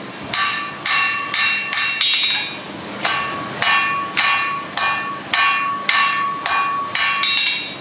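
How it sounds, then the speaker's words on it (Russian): A blacksmith strikes metal with a sledgehammer in a steady run of about a dozen loud, ringing blows, close up, with no talk. "У нас работает вес кувалды,"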